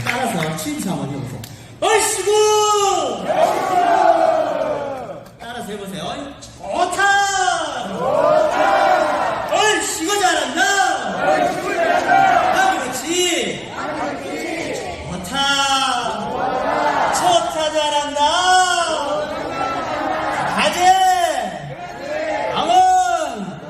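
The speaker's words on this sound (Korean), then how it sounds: "손뼉도 크게 치시고, 입을 크게 벌려서 소리도 지르고" An audience at a Korean traditional-music (gugak) pop concert shouts and calls out together, with many overlapping voices rising and falling in loud, excited bursts that carry on steadily from start to finish.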